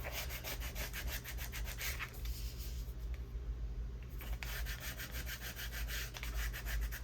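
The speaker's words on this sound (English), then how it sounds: "Let me turn this over so I can scrape this." A small scraper drags over a glued paper journal card in quick repeated strokes, a close, dry rasping rhythm with a short pause midway.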